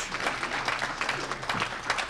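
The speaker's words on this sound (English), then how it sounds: "Give them a round of applause." Attendees at a school board meeting give a brief round of applause, moderate steady clapping from a modest crowd in a room.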